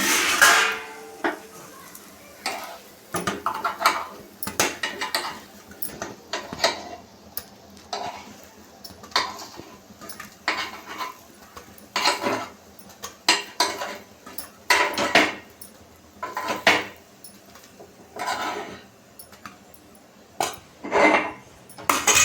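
Metal utensils clink against a pan while egg paddu with vegetables is lifted out, sharp scattered taps and scrapes at irregular intervals, near and moderately loud, with quiet talk in between.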